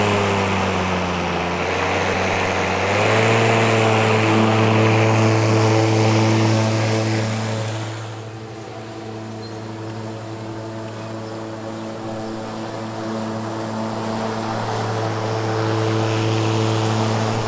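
A Milwaukee M18 battery-powered rotary lawn mower runs in high lift mode, its blade spinning with a steady hum that rises in pitch and loudness, dips briefly midway, then recovers, close and alone.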